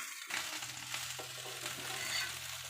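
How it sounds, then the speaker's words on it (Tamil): Moong dal dosa roasting on a hot pan, a steady close sizzle and crackle with a low hum underneath, continuous throughout with no talking. "ரெண்டு புறமும் நல்லா வேக வச்சு ரோஸ்ட் பண்ணி எடுத்துக்கலாம்."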